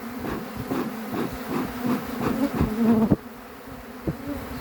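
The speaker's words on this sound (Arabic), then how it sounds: "انظروا إلى النحل في كل مكان" Honeybees swarming around a hive inside a huge tree give off a steady, close buzz with a low droning hum, broken by louder swells as individual bees pass near, before easing off toward the end.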